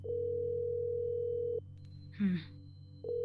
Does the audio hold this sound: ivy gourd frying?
no